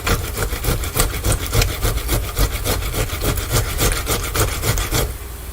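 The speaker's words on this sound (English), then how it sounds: "Just grate up your tomato." A tomato is rubbed against a grater for salsa, with loud, close, rhythmic rasping strokes in quick succession that end abruptly.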